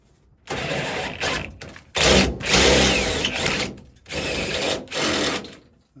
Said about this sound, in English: We're going to go drill a hole, 3/8 hole in the door, a couple 3/8 holes in the door.